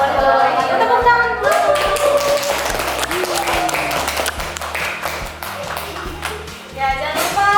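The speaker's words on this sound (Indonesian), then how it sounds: "Tepuk tangan." Hand clapping layered over music, with bright sharp claps scattered across a busy backing track and a voice or melodic tones drifting through.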